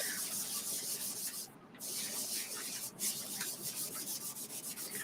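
Surface wax is rubbed onto a fabric strip rail sign, producing a soft, close scrubbing and brushing sound in quick repeated strokes with a couple of brief pauses.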